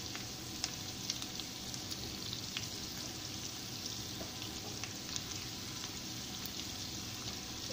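Green peas and ingredients for chicken fried rice fry in a pan with a steady, close sizzle and scattered pops and crackles, with no voices.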